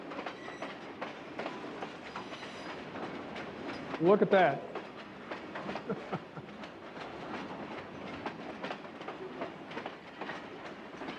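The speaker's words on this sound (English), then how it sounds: "You don't find anybody riding this train, you know." A train rolls across the Dungeness River railroad bridge, its wheels clacking in a steady rhythmic beat at moderate distance with a brief louder rattle midway, while a person says a few words.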